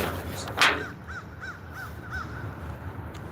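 A crow caws five times in an even, steady series, moderately distant and clear over a faint background hum, with one brief louder noise burst just before the calls begin.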